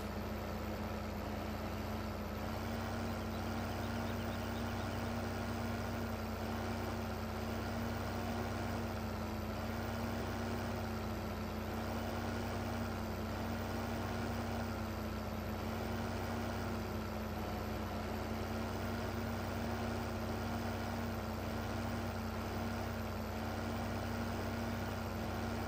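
A tractor engine in Farming Simulator 15 runs at a steady idle, a continuous droning hum with a fixed mid-pitched tone that stays unchanged throughout without any talk.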